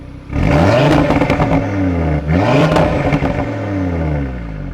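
An Audi RS3 engine revs hard twice with exhaust valves open, its exhaust rising in pitch with a throaty roar and crackling pops, then settling into a loud idle.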